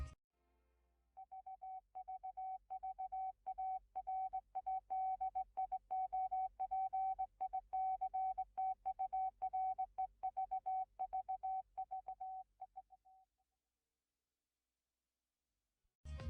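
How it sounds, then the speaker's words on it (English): Low-pitched Morse code beeps from the 1987–1992 RKO Pictures 'Transmitter' logo: a steady stream of rapid electronic tones at one pitch, clear and alone over a faint low hum, stopping after about twelve seconds. "I have a variant where the Morse code's beeps are low pitched."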